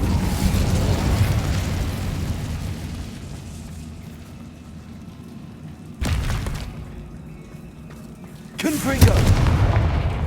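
Fiery spell blasts from the Incendio fire spell in the Hogwarts Legacy video game, a rumbling roar followed by two sharp loud bursts partway through and near the end, set against continuous low ambient noise.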